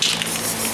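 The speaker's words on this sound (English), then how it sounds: "Spray a little bit of yellow down there." Brief hiss of a spray paint can releasing yellow paint, a continuous airy spray heard up close and fairly loud, with no talking.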